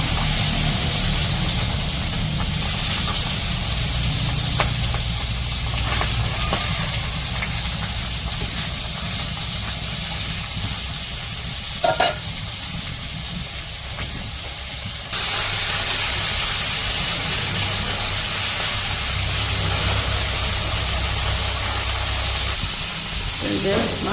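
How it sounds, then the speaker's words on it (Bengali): Fish sizzling in hot oil in a wok in a traditional village kitchen, a steady loud hiss and crackle running throughout with a brief clatter midway and the level jumping slightly partway through. "কড়াই তেল দিয়ে দিচ্ছিল, গরম হয়ে গেছে তেল, মাছগুলো দিতেছে"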